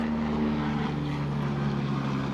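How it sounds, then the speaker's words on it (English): A helicopter flies over Los Angeles, its steady droning rotor hum and engine whine continuous and fairly loud throughout. "It's LA, lots of helicopters."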